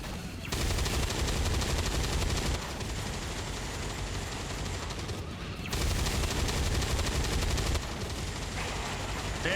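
Sustained automatic gunfire from XCOM 2 keeps up in dense, loud volleys for nearly ten seconds, easing off briefly twice before the next bursts roar back in.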